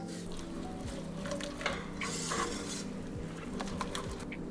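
A spoon stirs Kraft mac and cheese in a pot with garlic powder, paprika, onion powder, ground mustard and pepper, making soft scraping and a few light clinks, quiet and close with no voices.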